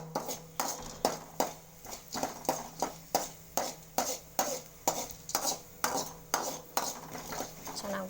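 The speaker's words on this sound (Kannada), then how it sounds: "ಚೆನ್ನಾಗಿ ಬಾಡಿಸಿದ್ವಿ." A spatula stirs and sautés snack ingredients in a pan for an evening snack, making steady, evenly spaced scraping strokes about twice a second, close and clear, with no talking.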